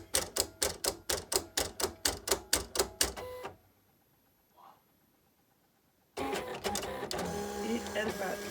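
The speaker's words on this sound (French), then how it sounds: "je lance le travail et on va voir ce que ça donne sur la machine" An electronic cutting machine fitted with a self-sharpening automatic blade cuts card in a fast run of about fifteen regular rattling strokes, then a pause with a faint tick, then a dense burst of continuous mechanical whirring and clatter.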